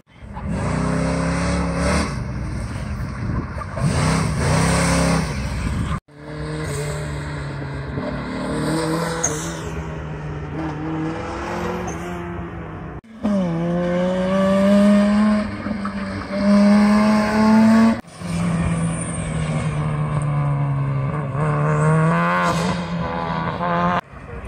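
SCCA autocross race cars run the course in New York, engines revving hard through several loud passes with rising and falling pitch, separated by brief cuts; no talking.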